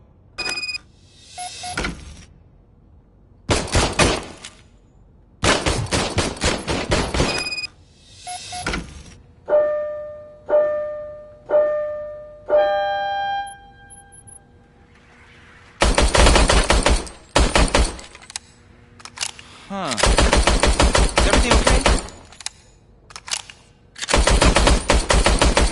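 Loud bursts of rapid automatic gunfire come from an old service gun in a RoboCop video game, with repeated long volleys separated by pauses and a few rhythmic electronic tones in between.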